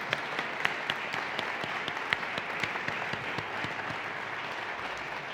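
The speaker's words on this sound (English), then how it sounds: "if you would please join me in clapping and expressing our gratitude" An audience at a humanities awards ceremony clapping together, an even, sustained wash of applause with individual claps popping out, steady and fairly close for over five seconds.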